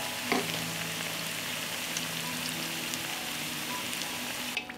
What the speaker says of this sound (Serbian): Nakon 4 minuta prženja okrećemo na drugu stranu i nastavljamo da pržimo